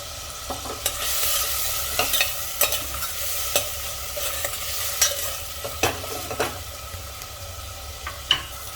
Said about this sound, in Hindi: टमाटर को भी पका लेंगे। तो टमाटर के साथ थोड़ा सा नमक डाल देंगे